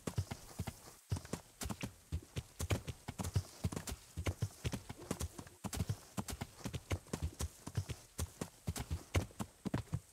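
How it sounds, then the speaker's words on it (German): Horse hooves clip-clopping at a steady riding gait across meadows in the medieval video game Kingdom Come: Deliverance, a continuous rhythmic beat of close, clear hoof strikes with no talk over it. "über diese Wiesen zu reiten ist echt angenehm."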